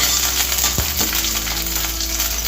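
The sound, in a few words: green chillies and garlic frying in oil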